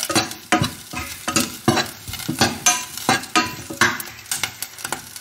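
Bell peppers frying with tomato and soy sauce in a pan, a loud sizzle under a repeated rhythmic clatter of a spatula stirring and scraping, about a dozen strokes in quick succession, with no voices.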